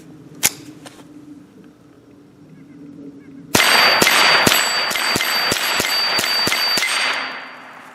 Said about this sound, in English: Let's go ahead and throw this in here and shoot that steel a little bit more.